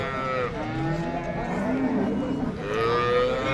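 Cattle lowing at a livestock market in Pollachi, several long drawn-out moos overlapping across the stretch, loud and close against a busy crowd murmur.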